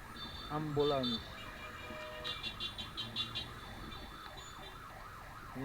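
An ambulance siren wails, rising and falling in rapid repeating cycles, fairly distant and steady, with a brief voice early on and traffic noise underneath.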